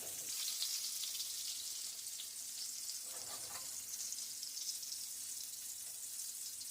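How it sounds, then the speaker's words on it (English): Bacon frying in a pan at breakfast gives a steady, close sizzle and crackle that runs unbroken and fairly quiet, with no talk over it. "I'm thinking this bacon is getting real close to being done."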